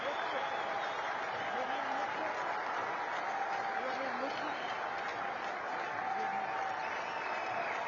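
A cricket crowd at a Pakistan versus Australia match applauds a debut century, a steady, distant wash of clapping heard faintly under a commentator's voice.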